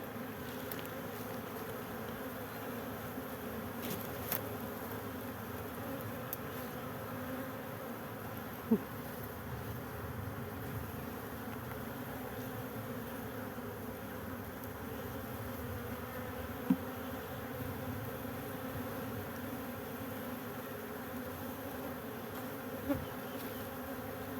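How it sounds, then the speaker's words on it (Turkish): A dense, steady buzz of many honeybees swarming close by around a hive, continuous throughout with occasional faint clicks. "Arılar da taze arılar, ufak arılar."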